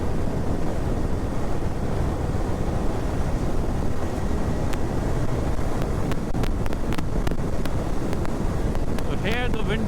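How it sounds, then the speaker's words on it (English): Strong wind blast roars continuously over a rider on a Royal Enfield Bear 650 motorcycle at speed, a dense, loud rush with scattered sharp clicks and buffeting near the end. "So here the wind blast has increased a lot, so you will feel that on your chest, on your shoulders, on your arms."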